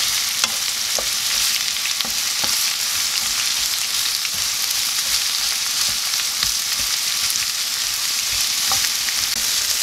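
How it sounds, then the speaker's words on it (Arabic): Onions frying in oil in a pan, a dense, steady sizzle held at an even level throughout, close up, with occasional soft stirring taps and no voices. "هنا كنحركو البصل ديالنا،"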